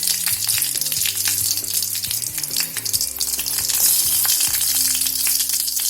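Mustard seeds and broken dried red chillies frying in hot oil for a green gram thoran, a loud, dense continuous sizzle with fine popping and crackle running the whole time.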